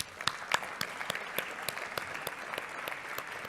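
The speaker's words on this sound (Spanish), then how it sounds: "Un aplauso para ellos." An audience at a climate emergency debate applauds speakers coming onto the stage, scattered distinct claps rising to a moderate, fairly close round of applause.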